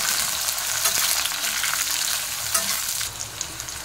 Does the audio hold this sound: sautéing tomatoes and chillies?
yes